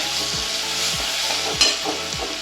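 Ginger-garlic paste of ten to fifteen garlic cloves and an inch of ginger sautés on medium heat in a pan, giving a steady sizzle with rhythmic stirring strokes and one sharper clink of the spoon against the pan.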